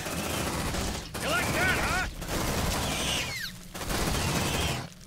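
Dense sustained automatic gunfire in Aliens: Dark Descent, loud continuous bursts broken by short gaps, with rising creature shrieks and voices talking over the shooting.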